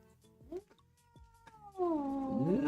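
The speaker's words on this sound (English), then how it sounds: "this is my girlfriend's bitch ass cat Milo" A 16-year-old cat named Milo gives a few short meows, then breaks into a loud, drawn-out, wavering caterwaul that grows in strength toward the end, close to the microphone.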